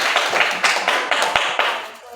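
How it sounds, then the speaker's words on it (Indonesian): Classroom applause in an art teacher-training lesson, several short bursts of clapping from a small group, close and fairly loud, with brief gaps between bursts. "Berikan tepuk tangan dulu"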